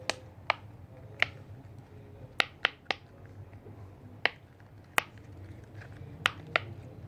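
A small pop-it fidget toy being pressed, giving a series of about a dozen sharp, close clicking pops at uneven intervals over a quiet background, with no voices.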